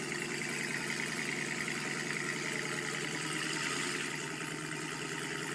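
A Chrysler 300C with an aftermarket exhaust idles with a steady, even rumble and no other sounds over it.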